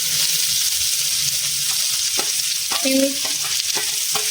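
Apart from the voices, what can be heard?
chopped onion frying and sizzling in hot oil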